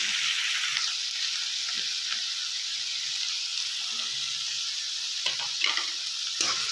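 Tomato and fresh green peas fry in a pan for an aloo peas kurma, with a constant sizzle and occasional scraping knocks of a spoon stirring through the mixture.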